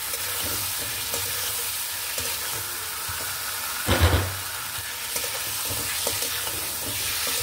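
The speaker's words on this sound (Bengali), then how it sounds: "এবার মাছটাকে এখন সুন্দরভাবে আমি কষিয়ে নেব।" Fish pieces sizzle and fry in a pan of spice masala while being stirred, a steady crackling hiss with a few louder scraping stirs near the middle, close and continuous with no talking.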